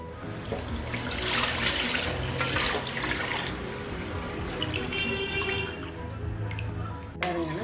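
Liquid pours steadily into a rice flour mixture for murukku vadagam, a continuous close splashing and trickling stream that fades near the end.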